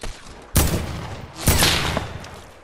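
Two loud gunshots with reverberant tails in a console shooter video game, one near the half-second mark and another about a second later, each decaying slowly over a low background.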